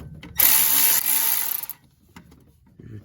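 A ratchet wrench loosens transmission pan bolts under a Ford Expedition, giving a loud burst of rapid clicking that stops abruptly, followed by faint handling noises and a short closing click.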